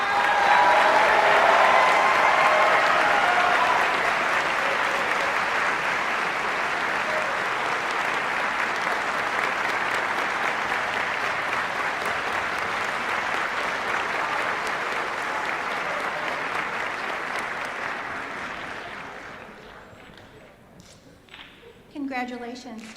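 An audience at a university nursing school winter pinning ceremony gives graduates a long, loud round of applause that slowly thins out and stops, followed by a few scattered claps and small sounds in the room.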